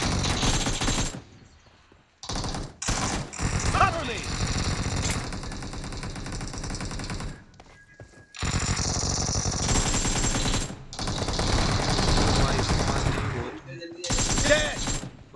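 Gunfire in the PUBG Mobile video game, dense rapid bursts of automatic fire and shots filling most of the stretch with brief silent gaps, loud and close.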